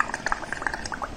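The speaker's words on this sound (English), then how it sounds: "I'm going to blow in it now." Bubbles blown into colored water in a bowl make a rapid burbling of small pops and gurgles, close and quick, with a little background noise.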